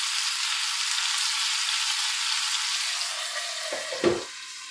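A beef burger patty fries in a pan with a steady, bright sizzle, close and fairly quiet, ending in a short clatter as it is turned over.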